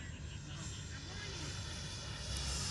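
Freewing F/A-18 64mm EDF RC jet on 4S power at full throttle, a steady broadband ducted-fan roar sustained throughout a low pass, loud and fairly close with wind noise.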